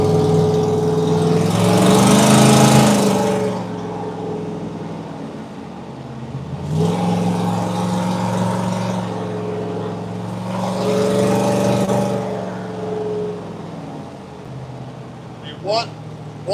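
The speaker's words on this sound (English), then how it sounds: "Rev at the cop. Rev at the cop. Rev it." A car engine revs during the Mint 400 parade on the Las Vegas Strip, with three long swelling revs separated by idling, heard under voices talking nearby.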